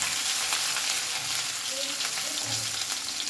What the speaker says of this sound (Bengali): গ্যাসের ফ্লেমটাকে মিডিয়ামে রেখে আদাটা একটু নেড়ে নেব